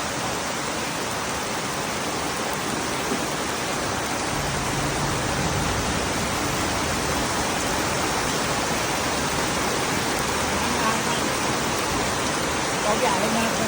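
A flooded stream rushes loudly and steadily throughout, a dense unbroken roar of fast water close by.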